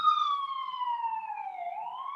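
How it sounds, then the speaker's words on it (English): A single ambulance siren tone wails steadily downward and then rises again, clear and fairly close with nothing else behind it. "fire truck, or police, or ambulance, actually, it's an ambulance"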